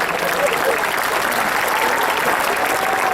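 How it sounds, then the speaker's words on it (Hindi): Dense, loud audience applause at a national poetry gathering held at a university, sustained evenly for the whole stretch. "एक बार तालियां बजा दे, मैं शुरू होता हूँ।"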